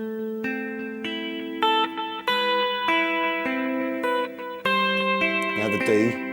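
Slow fingerpicked acoustic guitar playing a song's intro, single notes ringing out one by one over a descending bass line, close and clear with no talking.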